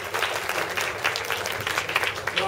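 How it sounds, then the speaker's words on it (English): Audience applause at a coffee industry talk on specialty coffee, a steady wash of many hands clapping close and fairly loud for the full stretch, with no voices standing out. "Can we have a big round of applause for Kelvin?"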